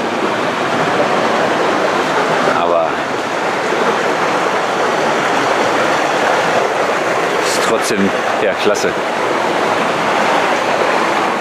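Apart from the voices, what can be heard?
water flowing beneath metal grates in a gorge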